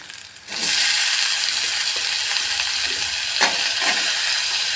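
Onions fried in a pan for masala Maggi with tomatoes burst into a loud, steady sizzle after a brief quiet moment, with scattered light scraping and clicks of a spoon stirring through the hiss.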